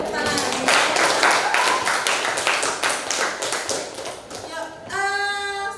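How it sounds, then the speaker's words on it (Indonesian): A high-school class claps hands together in a classroom, a brisk burst of many overlapping claps that gradually thins out, followed by a brief tonal sound. "Jadi tepuk tangan."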